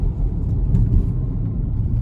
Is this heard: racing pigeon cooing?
no